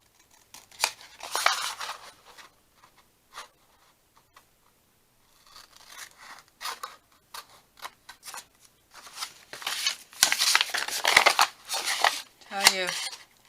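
Scissors snip through paper pieces for a holiday craft project, sharp intermittent cuts in short bursts separated by quiet pauses, with light handling clatter, close and clear.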